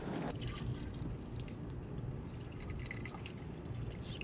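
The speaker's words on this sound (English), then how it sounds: "I may just pour this coolant straight into there since we don't have to worry about bleeding it," Coolant pours straight into a car's cooling system in a steady, close, gurgling liquid flow, with splashy drips throughout and no talking.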